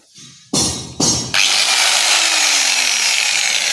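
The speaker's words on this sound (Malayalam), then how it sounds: "ഇതൊക്കെ നമ്മൾ കട്ട് ചെയ്തതാണ് ഈ കട്ടിങ് മെഷീൻ കൊണ്ട്" Cutting machine cutting material: two short bursts of a high whining motor, then a sustained loud, steady grinding whine that holds to the end.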